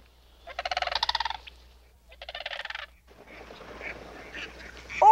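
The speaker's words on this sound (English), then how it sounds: "That loudest sound that we're hearing, that's Mr. Mallard." Loud, close quacking from a mallard duck comes in two rapid, pulsing bursts, followed by softer, mixed bird calls in an open outdoor setting.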